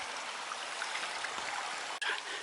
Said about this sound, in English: there's not much water in this stream right now